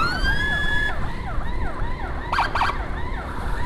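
A wailing ambulance siren sweeps up and down steadily during a police-escorted run, loud and continuous over road and engine rumble, with a brief burst of horn-like blasts partway through.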